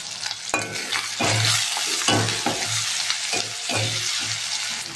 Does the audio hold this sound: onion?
yes